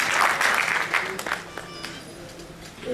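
An audience in a Bhopal auditorium applauding to welcome a guest at a talk, a burst of dense clapping that fades over a few seconds as a voice begins speaking over it.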